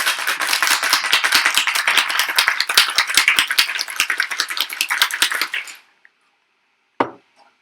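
Ice rattles hard and fast inside a cocktail shaker for about six seconds, loud and close, then stops, followed by a single knock.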